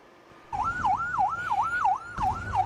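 An emergency siren wails in a fast, steady up-and-down pattern, loud and close, with traffic rumble underneath.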